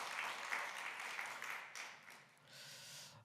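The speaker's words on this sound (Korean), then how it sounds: "우리 한번 좀 박수로 한번 격려 좀 해주셨으면 좋겠습니다." Church congregation gives the worship and media teams a soft, sustained round of applause, faint and continuous with a brief dip near the end.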